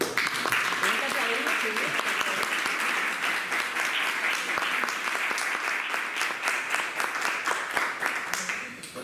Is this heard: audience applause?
yes